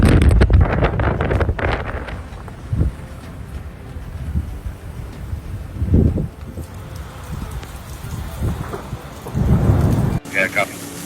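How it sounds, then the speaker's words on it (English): A thunderstorm over a city, with heavy rain hissing and wind buffeting the microphone, while several loud thunder cracks and rumbles break through at intervals. "Epic lightning barrage lights up the entire city."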